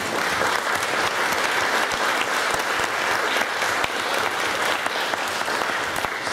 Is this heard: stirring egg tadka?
no